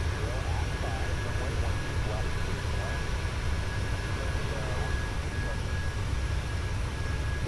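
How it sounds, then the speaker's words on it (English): Wind blows around a Boeing 737-800 in flight within Microsoft Flight Simulator, a steady broadband rush with engine hum beneath, constant throughout. "Oh, it's windy, you can hear it."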